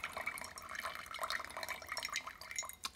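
Hot water poured from a Pico pouring pitcher over pour-over coffee grounds: a continuous light trickling and splashing stream with small gurgles, close and fairly soft, with no talking.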